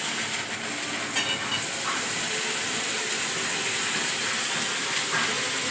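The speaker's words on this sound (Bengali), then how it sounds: "একটুখানি রসুন ফোড়ন দিয়েছি," Garlic tempering sizzles in hot oil with onion and pumpkin in the pan, a continuous dense hiss with faint crackles, close and steady with no voices.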